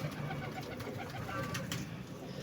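Several pigeons coo in a loft as young birds are being taken out, giving low, soft, overlapping burbling calls that run steadily and close by throughout.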